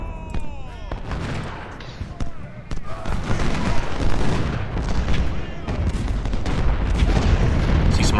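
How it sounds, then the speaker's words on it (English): Cannon and musket fire from a Union battle at Shiloh in the Ultimate General: Civil War video game: dense, continuous volleys of booms and crackling shots that build in loudness, with no clear voices. "See some artillery fire coming from the enemy"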